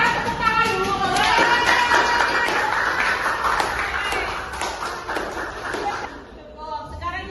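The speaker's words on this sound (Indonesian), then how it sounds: "Sepakat, tepuk tangan dulu boleh?" Classroom of children clapping hands together in quick sharp bursts, loud and close, with voices and chatter mixed in and the clapping thinning out near the end.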